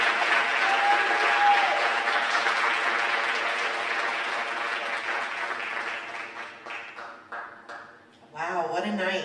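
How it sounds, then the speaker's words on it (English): Steady applause from an audience at a high school senior awards night fills the room, sustained for several seconds and then thinning out, followed by a brief voice. "please, one more round of applause for our school counselors and Dr. Antile."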